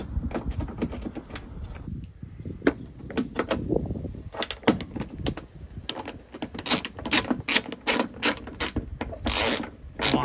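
Fasteners on a Toyota RAV4 rear tail light being tightened by hand, giving a run of close, sharp ratcheting clicks and mechanical rattles that grow denser toward the end, with no talking.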